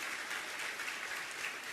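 An audience claps steadily at a Jain religious question-and-answer discourse, a dense, even wash of applause heard from the hall with no speech over it.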